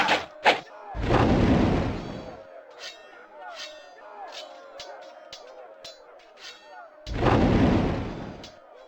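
Artillery firing in the Warhammer: Shadow of the Horned Rat video game: two heavy booming volleys, one early and one near the end, with faint clicks and chatter between them.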